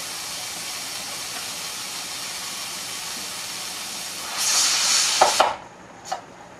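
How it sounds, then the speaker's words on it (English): A pressure cooker on a stove, cooking chicken legs, gives off a sudden loud hissing gush of steam after several seconds of quiet background hiss. The burst cuts off sharply, followed by a brief short puff. "gives off a big gush of steam to let me know that it's there"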